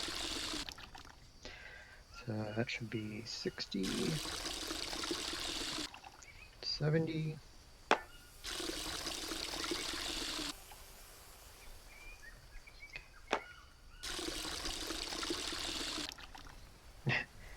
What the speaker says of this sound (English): actually let's fill this the rest of the way up since I have water